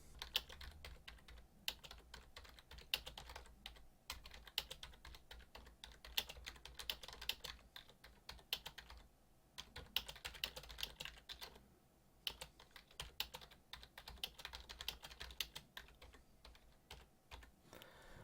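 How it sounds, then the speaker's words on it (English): A long sentence is typed on a computer keyboard, with quiet, steady key clicks in an irregular rhythm and brief pauses, faint and close. "In this paragraph, I'm going to type a longer sentence."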